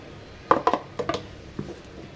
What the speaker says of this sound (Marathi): बघा पीठ असं छान असं हलवून घ्यायचं